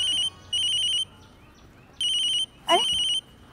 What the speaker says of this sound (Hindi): अरे मुन्ना का फोन है।